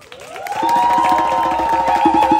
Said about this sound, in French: Est-ce qu'on peut aussi applaudir nos musiciens?